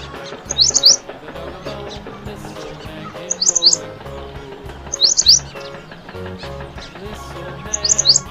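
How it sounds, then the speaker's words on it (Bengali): A bulbul's bright chirps repeat four times at regular intervals, short twittering bursts laid over steady background music with no talk. "বয়ে বুলবুলিটির মুখটি কালো।"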